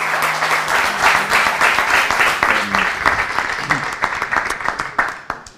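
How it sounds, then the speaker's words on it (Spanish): An audience at an education session on digital transformation applauds as the speaker comes up, with dense, loud clapping that swells and then slowly thins toward the end, and a few voices faint beneath it. "Un aplauso para ti."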